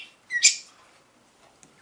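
Pet budgies chirp in two short bright bursts, a quick twittering call near the start and another brief tweet at the end, close and clear with nothing else around.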